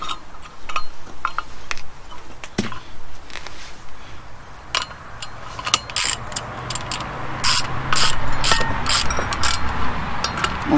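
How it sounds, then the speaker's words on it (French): Ratchet spinning screws down by hand on a Ford Transit MK3 brake caliper during a pad and disc change, giving bursts of quick metallic clicking that get louder and denser toward the end, with no talk over it. "On approche les vis pratiquement à serrer"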